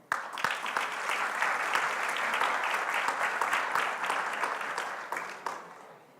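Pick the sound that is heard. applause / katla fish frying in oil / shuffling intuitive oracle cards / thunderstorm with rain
applause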